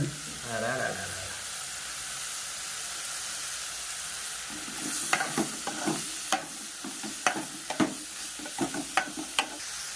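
Dried fish and onions frying in a pan, a steady near hiss with sharp stirring clatters and scrapes getting louder and more frequent in the second half.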